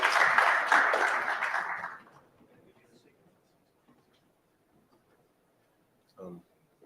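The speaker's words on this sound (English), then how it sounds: "another round of applause, please, for Dino and Dimitri from Fluent." Audience applause at a tech conference day in Istanbul, a loud burst of clapping for about two seconds that quickly fades into a quiet room, with a brief faint clatter near the end.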